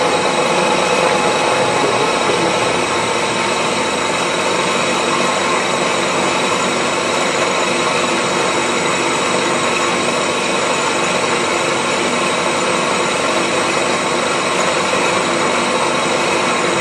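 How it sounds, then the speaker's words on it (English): A 10mm carbide slot drill milling metal dry, making a loud, steady, broadband machining roar with a constant motor whine that runs unbroken from start to finish. "That's a 10mm carbide slot drill"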